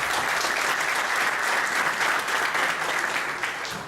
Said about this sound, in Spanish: vaya un fuerte aplauso.